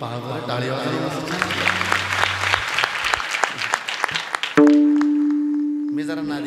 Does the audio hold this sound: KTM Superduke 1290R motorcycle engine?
no